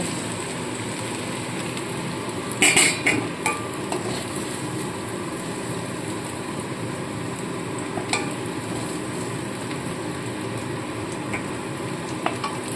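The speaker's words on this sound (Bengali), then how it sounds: "কচুগুলো কিন্তু ভাজা হয়ে গেছে এবার এই গাটি কুচিগুলোকে সম্পূর্ণ আমি তুলে নেব" Fried taro pieces, cut from giant taro, stirred and lifted out of hot oil in a pan while cooking with prawns, a steady sizzle under scattered spatula scrapes and clinks, with a sharper clatter near the start.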